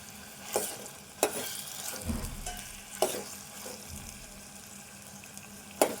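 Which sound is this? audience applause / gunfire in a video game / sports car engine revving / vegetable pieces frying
vegetable pieces frying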